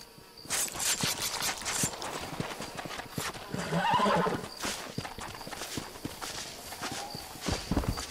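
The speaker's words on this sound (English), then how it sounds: "My horse is still following me, so noisy." A horse whinnies loudly among steady clip-clopping hooves and shuffling steps in Red Dead Redemption, close up, with a faint buzz of insects in the background.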